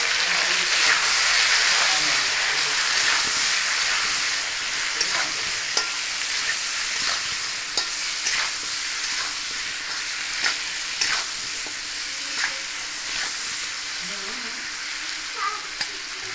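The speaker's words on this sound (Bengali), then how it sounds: "ভালো করে আলুটাকে ভেজে নেবো।" Potato pieces fry in oil with salt, turmeric, Kashmiri chili powder and cumin powder, sending up a continuous close sizzle punctuated by regular scrapes and clicks of stirring, without speech.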